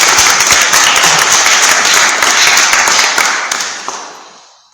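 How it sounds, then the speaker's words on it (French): An audience at an evening study gathering for young people applauds loudly, a dense wash of clapping that holds steady and then fades away over the last couple of seconds. "et on peut vous applaudir."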